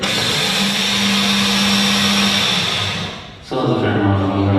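A blender grinds dried seeds into flour, running loud and close with a steady whir that dips briefly as the load shifts, then resumes with a deeper, rougher roar.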